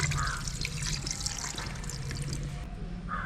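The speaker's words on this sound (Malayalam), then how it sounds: "വേവാൻ ആവശ്യത്തിനുള്ള വെള്ളം ഒഴിച്ചു കൊടുക്കാം." Water poured over mutton in a pressure cooker for Thalasseri mutton dum biryani, a continuous close splashing trickle that holds steady for a few seconds with no talking.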